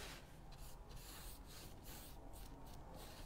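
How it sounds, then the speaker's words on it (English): A hand rubs glaze onto stencilled angel wings, giving soft repeated scratchy rubbing strokes in an irregular rhythm, faint and close with no talking. "Rubbing the glaze on, and I'll probably get the glaze onto the edges as well"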